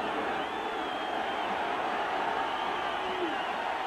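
A football stadium crowd at a 1985 Michigan at South Carolina college game roars in a steady, dense wash of cheering and noise, loud and sustained throughout with no clear single voices.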